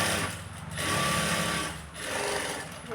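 A sewing machine stitching a blouse runs steadily at close range, its fast mechanical whirr rising and falling in three smooth surges with brief slowdowns between, no voice over it.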